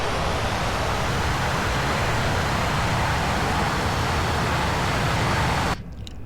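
Inside the cockpit of a SAAB AJS-37 Viggen in the flight simulator DCS World, the jet engine roars as a loud, steady broadband rush that sustains evenly, then drops sharply just before the end.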